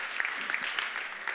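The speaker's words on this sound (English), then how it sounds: "You got cheering" Audience applause and cheering fill a conference hall as a round-table session begins: a short, dense patter of clapping at steady volume.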